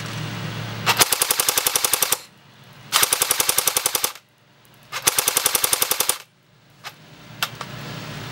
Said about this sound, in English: Alright, so full auto at the tree 125 feet away.